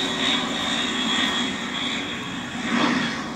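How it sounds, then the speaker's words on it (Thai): A fixed-wing airplane passes overhead near a mushroom farm house by U-Tapao, its broad steady engine roar continuous throughout and swelling slightly toward the end, with no talking. "่เครื่องบินผ่านหลายสายมากเลย"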